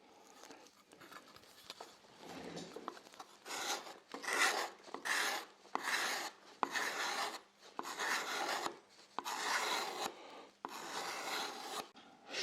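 Hand sanding of a wooden metal-style guitar body, working into small cavities and end grain: steady raspy rubbing strokes in a regular back-and-forth rhythm, close and clear, with no talking.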